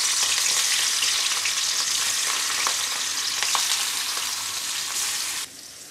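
Pieces of rohu fish frying in a preheated kadai, a loud continuous close sizzle with scattered crackles and spits that drops off sharply near the end, no talk.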